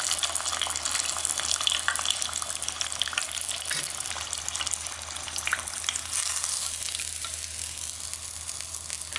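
Tonkatsu pork cutlet deep frying in hot oil, a steady dense crackling sizzle with fine bubbling that runs close and loud throughout, nobody speaking.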